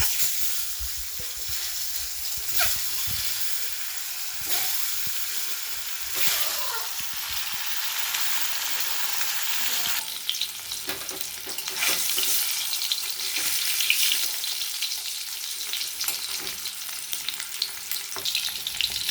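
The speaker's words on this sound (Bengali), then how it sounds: "এবার আমি ডিমগুলোকে তেলে ছেড়ে নিই" Eggs frying in hot salted oil in a pan give a loud, steady sizzle throughout, with occasional scraping stirs and brief splashes of water in the background.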